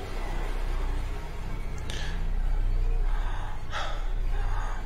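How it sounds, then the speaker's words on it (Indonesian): Heavy panting breaths with a couple of sharp, gasping inhales, close and breathy over a steady low background hum. "Aku pun terengah-engah dalam keheningan itu"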